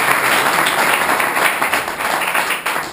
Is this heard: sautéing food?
no